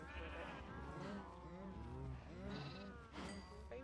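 Sheep, including a baby sheep, bleat repeatedly in the video game Minecraft, overlapping wavering calls that run steadily close up throughout.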